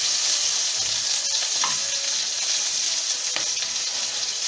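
Stuffed red chillies for a Banarasi pickle cook in an oiled pan over medium flame, making a constant loud, close sizzle with a couple of brief clicks as they are turned, no voices.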